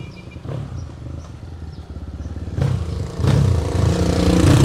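An MCF250 motorcycle engine runs during a test ride, a rough low rumble with clattering texture that swells louder in two steps toward the end, heard alone without talk.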